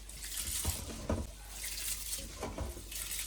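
Red rice being rinsed and swished in water for idli batter, soft repeated sloshing and trickling pulses at a gentle uneven rhythm, close and fairly quiet.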